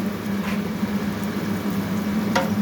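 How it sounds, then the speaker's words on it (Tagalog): Sliced onions sauté in a pan, browning before wine goes in, with a soft, continuous low sizzle and a low steady hum and faint clicks over a few seconds. "Igigisa natin ngayon sa yung sibuyas na in-slice ko"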